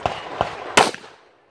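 Three quick gunshots on a 3 gun match stage, two lighter reports followed by a louder crack with a short echoing tail, nearby and without talking.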